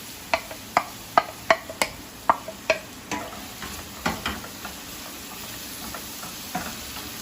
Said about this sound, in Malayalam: ഇത് 2 വേപ്പില ഇട്ട് ഇഞ്ചിയും പച്ചമുളകും ഇതിലിട്ട് കൊടുക്കും.